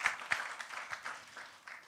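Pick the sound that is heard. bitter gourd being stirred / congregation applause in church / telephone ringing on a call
congregation applause in church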